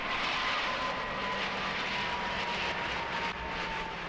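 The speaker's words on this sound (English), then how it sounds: "As the A320 crossed the Absheim airfield, its speed dropped to only 112 knots" An Airbus A320 passes low and slow over Habsheim airfield at about 112 knots. Its engines give a steady, droning roar with a faint tonal whine that continues throughout, with no voices.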